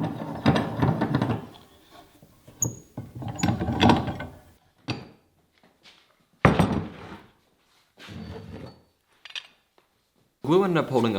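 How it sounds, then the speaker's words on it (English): Clamps being released from a freshly glued wooden cutting board glue-up, giving scattered mechanical clicks, ratcheting and clanks in short, uneven bursts with quiet gaps between. "So we're gonna take this out of the clamp."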